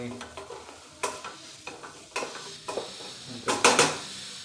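Chicken masala for khichdi sizzles in a pan while being stirred, with a steady frying hiss punctuated by several sharp scraping and clanking strokes of a utensil against the pot, the last ones loudest.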